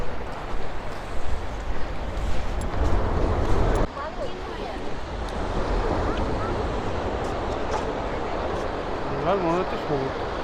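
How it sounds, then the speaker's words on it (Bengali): Sea waves wash on the shore at Mandarmani beach with a broad roar, and wind buffets the microphone, strongest in the first few seconds; a voice speaks over the surf. "হ্যাঁ, চলে এসেছি সমুদ্রের পাড়ে।"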